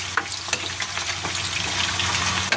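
Potatoes fry in hot cooking oil for chicken afritada, giving a steady, close crackle of sizzling with scattered sharper pops and spits.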